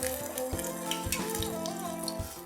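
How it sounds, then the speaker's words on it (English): Spoonfuls of vada batter drop into hot oil for a Holi recipe, giving a steady, quiet sizzle and bubbling of deep frying with soft tonal hums and small splashes, close up. "I'm going to wet my spoon and just pick up a nice dollop of the batter and drop it into the hot oil"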